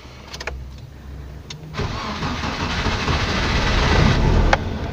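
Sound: Nissan Tsuru car engine starting

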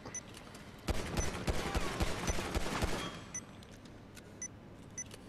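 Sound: gunfire in video game Grand Theft Auto V

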